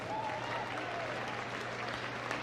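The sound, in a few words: applause for the Beagle at a dog show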